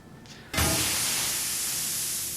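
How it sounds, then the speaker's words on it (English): In the game Shadowrun: Hong Kong, a sudden loud hiss bursts in after a brief quiet moment and continues steadily as propane gas rushes from a line. "With a sudden hiss, propane begins filling the room."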